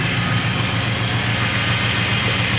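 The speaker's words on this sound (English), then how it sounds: "That is a smooth engine." A small engine on the little cracker runs smoothly after a tune-up, a steady, even drone with a low rumble, constant and fairly loud throughout, with no talk over it.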